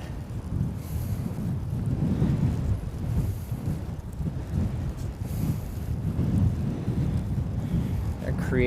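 A strong headwind from the north roars steadily across the microphone during a bike tour in South Korea, producing continuous loud buffeting with gusty surges. A voice talks faintly under the wind.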